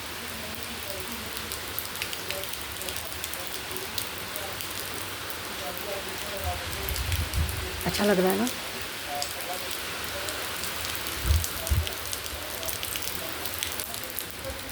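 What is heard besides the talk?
rain falling outside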